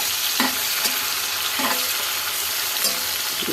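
Green chillies and bitter gourd fry in hot oil in a pan, giving a steady loud sizzle with a few brief stirring scrapes and clinks breaking through at intervals.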